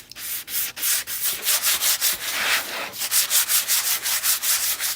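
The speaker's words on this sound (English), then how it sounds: "If you do not want yours distressed, you don't need to sand it." Sandpaper rubs back and forth across a wooden birdcage to distress its finish, in rhythmic close strokes that repeat quickly and evenly, with no talking.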